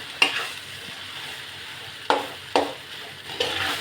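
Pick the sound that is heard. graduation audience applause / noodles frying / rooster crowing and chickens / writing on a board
noodles frying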